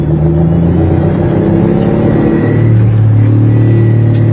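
A heavy truck's Cummins N14 diesel engine, paired with an 18-speed transmission, revs loudly up close in a deep, steady rumble that climbs in pitch partway through, with no talking.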